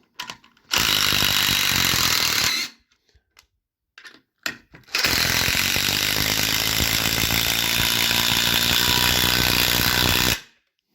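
A DeWalt DCF887 impact driver runs at speed 3 driving screws, loud and close, with a short rattling burst, a pause of brief blips, then a long sustained hammering run of about five seconds.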